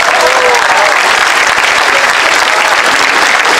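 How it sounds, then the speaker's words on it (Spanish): A rally crowd in San Pedro Xalpa, Azcapotzalco, Mexico City, applauds Claudia Sheinbaum with dense, loud, continuous clapping and cheering that holds steady throughout. "Un fuerte aplauso para la doctora Claudia Sheinbaum"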